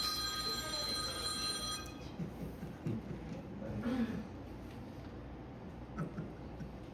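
Telephones ring during a church Bible lesson, a repeated electronic trill of ringtone bursts for the first couple of seconds over a murmuring hall, then fading into room noise and scattered movement.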